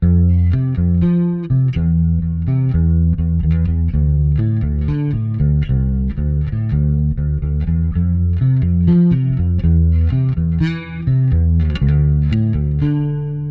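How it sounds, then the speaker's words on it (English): A bass guitar played through a Kemper Profiler with chorus and reverb, a steady run of sustained, shimmering notes with a thick low end, loud and continuous with no voices. "Then we have our chorus and reverb signal."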